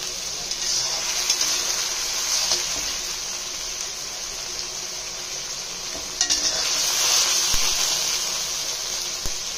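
Ginger-garlic paste being stirred in a pan after water is added, for a Bangladeshi rice dish; a steady hissing sizzle runs throughout, broken by occasional scrapes and taps of the spoon against the pan.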